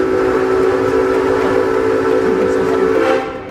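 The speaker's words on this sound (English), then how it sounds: "Can you give us a blue whistle?" A blue-colored steam whistle on the Kings Island amusement park train sounds one loud, sustained blast lasting about three seconds before cutting off.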